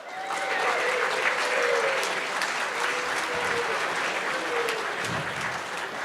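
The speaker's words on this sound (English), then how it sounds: "Let's give it a huge round of applause." Sustained applause fills the room at the Porsche Irvine dealership grand opening, a dense, steady clapping from a large crowd lasting several seconds, with a few voices faintly mixed in.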